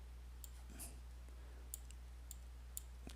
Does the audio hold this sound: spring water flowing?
no